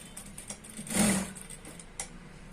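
A sewing machine runs in one short burst, stitching churidar pant fabric during a Punjabi dress course, rising for about half a second amid a quiet room with faint clicks.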